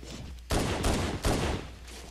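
Halo: Combat Evolved gunfire: after a brief quiet moment, loud, sharp bursts of shots ring out close up, in about three volleys.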